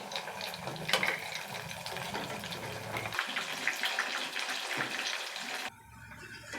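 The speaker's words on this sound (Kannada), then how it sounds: "ಈಗ ಇದು ಚೆನ್ನಾಗಿ ಫ್ರೈ ಆಗಿದೆ." Sabudana vada, medium-sized patted balls of sago, frying in hot oil, with a steady, bubbling sizzle close by that drops off abruptly near the end.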